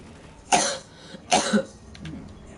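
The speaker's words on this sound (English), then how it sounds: "Sorry about the coughing." Two sharp coughs about a second apart, close and loud, followed by a quieter throat noise.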